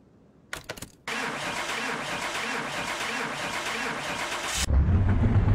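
A car up on a lift cranks over and its engine catches, settling into a steady, fairly loud running idle that continues for several seconds before a louder low rumble takes over at the end.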